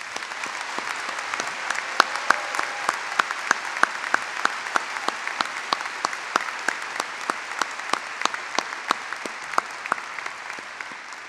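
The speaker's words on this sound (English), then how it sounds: "Let's give the truly exceptional class of 2019 a rousing round of applause." Audience applause at a 2019 medical university commencement for the graduating class, steady crisp clapping from a large crowd in a hall, sustained and even throughout without voices on top.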